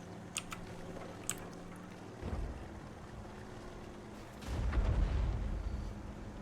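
Two deep, muffled booms from World of Tanks tank cannons land a few seconds apart over a low rumbling background, fairly distant and soft, with no voices.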